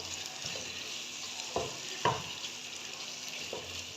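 Beef liver masala with fresh coriander gets stirred in a frying pan, a steady close sizzle broken by a few distinct scraping strokes of the spoon at intervals.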